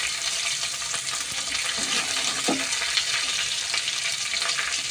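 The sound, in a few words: frying whole garam masala with mint, onion, carrot, beetroot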